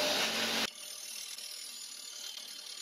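A homemade milling machine attachment making a light cutting pass on painted metal, a brief loud harsh burst of cutting that drops to a steady lower mechanical hum and chatter.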